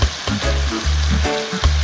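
Vegetables sizzle and fry steadily in a hot pan while sotanghon guisado is cooked, with several louder bursts as carrots and cabbage are added and stirred.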